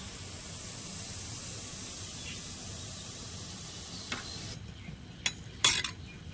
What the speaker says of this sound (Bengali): এখানে আমি নেড়ে চেড়ে খুব সুন্দরভাবে ভাজা করে নিয়েছি এবার আমি তেল থেকে তুলে নেবো